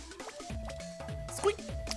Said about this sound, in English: The whole time Astro Boy has a footstep sound,